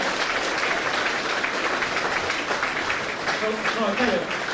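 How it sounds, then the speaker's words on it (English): Crowd applause at a car dealership event for two directors, a continuous rush of clapping with voices talking and calling out underneath it. "Give the lads a bit of a round of applause"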